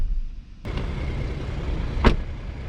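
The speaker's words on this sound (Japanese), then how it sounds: "そしてドアを閉めた音は" The door of a 2022 Toyota Land Cruiser 300 Series shutting, a single solid thud heard over steady low background rumble, with a fainter knock just before it.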